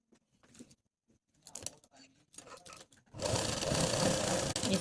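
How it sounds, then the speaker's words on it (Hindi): A sewing machine stitching the inner seam of trousers made from an old circle palazzo whirs loudly and close in a continuous run, after quiet handling noises and faint talk at the start. "अब हम इसकी अंदर की सिलाई को लगाएंगे जो कि आसन की तरफ होती है"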